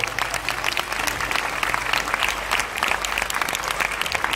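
An audience at a kindergarten school performance gives the young performers a steady round of applause. The clapping is dense and even, with crisp individual claps throughout.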